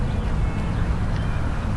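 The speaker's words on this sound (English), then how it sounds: "I'm enjoying a nice little time with the geese here" Wild Canada geese in Prince's Island Park in Calgary keep up a dense, continuous chorus of honks and quacking calls close by, with no talking over them.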